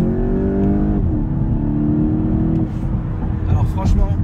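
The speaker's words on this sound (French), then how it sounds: "il y a une très bonne reprise sur la voiture" A car engine on a slippery, low-grip road, its revs rising and holding a steady strained tone with harmonics, then shifting as the car pulls away, loud and close, with a voice briefly talking over it.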